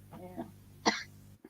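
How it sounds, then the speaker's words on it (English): A woman gives a single short, sharp cough, preceded by a brief throaty voiced sound and followed by quiet. "Oh, she's coughing."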